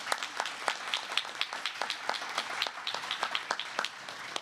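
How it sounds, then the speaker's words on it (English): A small audience at a naturalization ceremony for new American citizens applauds, with sharp, uneven hand claps close by and fairly light, a modest crowd clapping steadily for a few seconds. "Give yourselves a round of applause."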